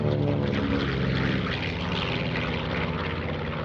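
A WWII-era propeller aircraft, one of a group flown over a 2024 airshow, drones loudly and steadily overhead, its engine roar sustained and close without pause.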